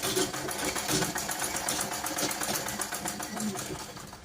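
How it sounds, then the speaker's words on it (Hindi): Sewing machine stitching close along the buckram of a blouse, a fast, steady mechanical whir running continuously at close range with no talk over it. "बुकरम के पास पास सिलाई लगानी है।"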